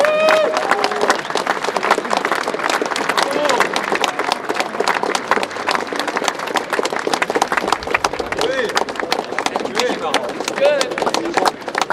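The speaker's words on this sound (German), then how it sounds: "jetzt müsst ihr mal klatschen" A crowd claps together outdoors at the Kaiserslautern monument to the football world champions, a dense, steady patter of hands lasting throughout, with voices mixed into the applause.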